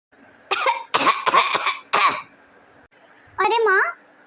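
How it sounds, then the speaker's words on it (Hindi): An ill elderly woman coughs in a home: a run of several harsh coughs in quick succession, a pause, then a final strained, rasping cough, close and loud with no talk. "आपकी खांसी तो दिन पे दिन बढ़ती जा रही है"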